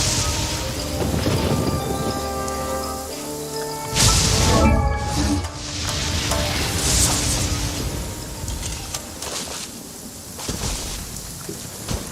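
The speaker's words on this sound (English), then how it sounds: "Let us find shelter from the rain." Rain and rolling thunder in the video game Genshin Impact, with steady rainfall and booming thunder mixed under continuous game music with sustained tones.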